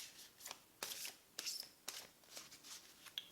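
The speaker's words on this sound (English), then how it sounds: "I'm going to pick one more card from my Solitary Witch deck" Cards from a Solitary Witch tarot deck shuffled and drawn, giving a run of soft, crisp riffling swishes and snaps in quick irregular bursts, close and fairly quiet, with no voices.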